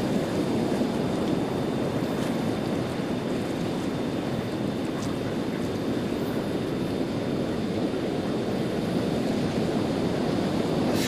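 Soliton waves rolling slowly upstream against the current on the River Carron at Stonehaven, Scotland, a steady broadband wash of moving water with wind noise, continuous and fairly loud throughout, no voices.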